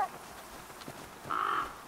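A bird in The Flame in the Flood video game gives a crow-like caw, a short harsh call near the end following faint scattered sounds.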